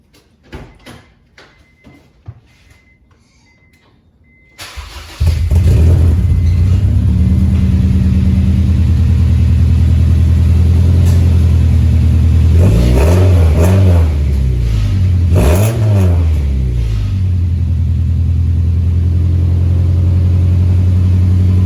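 After a few quiet clicks, a Honda CR-V (RD1) engine starts and idles with a deep exhaust rumble through a repaired exhaust, revving up twice midway before settling back.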